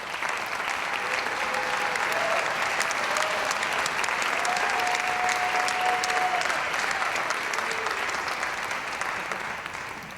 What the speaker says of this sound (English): we'd like to give them all a big round of applause